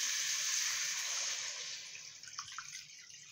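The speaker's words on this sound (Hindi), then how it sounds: "और अब हम लोगों ने इसके अंदर जो है पानी ऐड कर देंगे" Water poured into a cooking pot holding fried chicken pieces for a chicken vegetable soup, a steady close hissing pour that thins into splashes and drips as it stops.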